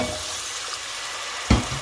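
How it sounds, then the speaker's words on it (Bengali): A little water goes into frying spice paste for a chapila fish bhuna, a steady close sizzle that flares into a short, louder splashing burst near the end. "এখন দিয়ে দিলাম মশলাটার মধ্যে সামান্য একটু পানি"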